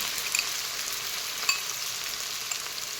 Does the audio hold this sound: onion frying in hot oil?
yes